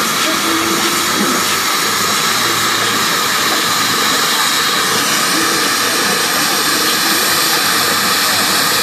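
A steam traction engine from Sidmouth in Devon rolls past in a rally parade, giving a loud continuous hiss and rumble close by with a steady mechanical churn throughout.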